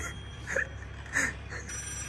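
A telephone rings inside a VR video game, two or three short trilling rings sounding at moderate distance and fairly quiet over a faint background.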